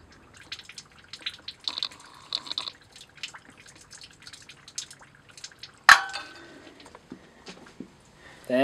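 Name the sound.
water draining from camper hot water heater pressure relief valve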